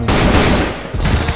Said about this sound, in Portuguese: Eu tô dando tiro